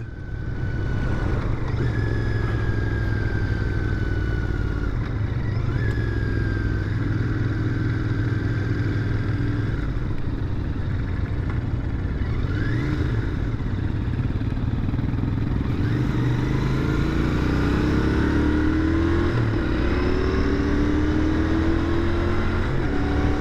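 A 2021 Royal Enfield Continental GT 650 twin being ridden, its engine droning steadily with rising and falling pitch through gear changes and wind rush, loud and continuous without talk.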